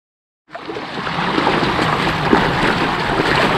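People wade across the flowing Ratta Khola stream, its water rushing and splashing continuously and close by after a brief silence, with no voices.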